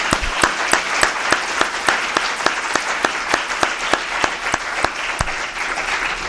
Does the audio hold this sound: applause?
yes